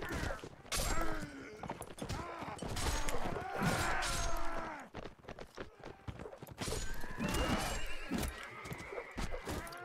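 Horses whinny repeatedly amid hoofbeats and battle clatter in the medieval combat game Mount and Blade: Warband, the neighs loud and layered over continuous fighting noise.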